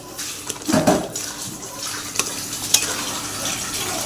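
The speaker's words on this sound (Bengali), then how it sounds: "মাংসটা দিয়ে আমি ভালো করে নাড়িয়ে দিচ্ছি" Mutton pieces being stirred in a karai as they fry, with a loud burst of scraping and sizzling early on and then a steady low sizzle broken by a few sharp clinks.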